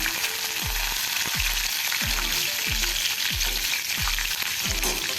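Mustard seeds, cumin and curry leaves sizzling loudly in hot oil for kanda batata poha, a dense close hiss with a series of regular thudding knocks from the spoon stirring the pan.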